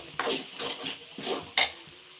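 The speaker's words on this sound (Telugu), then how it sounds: "మిరప్పొడి కూడా వేసి కొంచెం ఇలా వేగనిచ్చేద్దాం" Chilli powder frying in oil for a tamarind fish curry is stirred in the pan, with about five rhythmic scraping strokes over a faint sizzle, close and fairly quiet.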